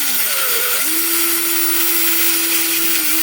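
A power drill bores a pilot hole for a large screw in a wooden pick handle, spinning up briefly and then holding a loud, steady whine until it stops.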